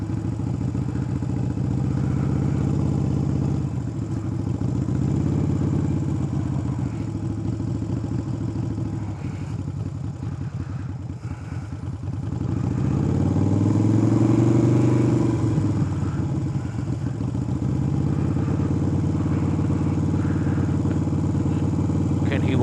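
A motorcycle rolls slowly in first gear around a parking lot, its mid-pitched engine running steadily and close with a rise in revs partway through, heard through wind buffeting.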